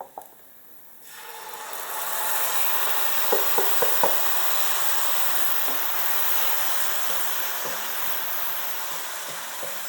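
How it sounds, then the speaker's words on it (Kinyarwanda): Chopped tomatoes go into a pan of frying onions for a fish stew. The hiss of sizzling suddenly swells and holds loud and steady, with a few light knocks of a spoon or the pan along the way. "ubu tugiye gushyiramo inyanya, ko igitunguru cyo kirahiye"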